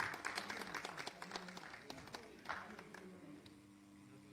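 A crowd applauding at an event in Lahore with brisk, scattered clapping that gradually thins out and fades toward the end.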